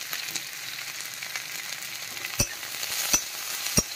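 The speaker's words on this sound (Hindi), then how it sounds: "देखिए अब प्याज थोड़ा सा भून जाएगा" Onion, lightly salted, fries over high heat in a pan for palak paneer, making a steady soft sizzle with a few sharp spatula clicks against the pan near the end.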